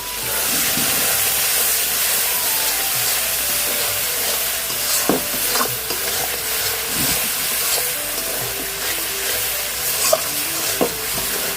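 Cumin spice paste frying with a splash of water for a rajma dish, a loud continuous hiss and sizzle close up, broken by repeated scrapes and taps of a spoon stirring the pan.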